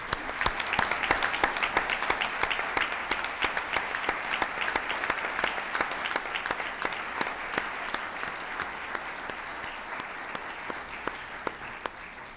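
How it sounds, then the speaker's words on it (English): Audience at a special city council meeting for the installation of officers applauds while standing, a long, steady spell of crowd clapping with distinct sharp individual claps standing out, gradually thinning toward the end. "Can you please all stand and let's applaud for all these folks."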